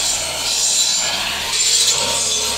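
A tractor-mounted branch saw on a Fendt 412 tractor cuts through tree branches, giving a steady, close, high rasping whine that continues for the whole stretch without pause.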